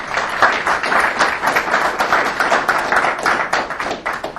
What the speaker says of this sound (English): let's give Steve a round of applause